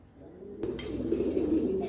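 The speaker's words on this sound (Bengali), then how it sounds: "এখানে এক পেয়ার পাইট কবুতর আছে" A pigeon's low, throaty coo rises and swells over a couple of seconds, close by, after a brief soft rustle.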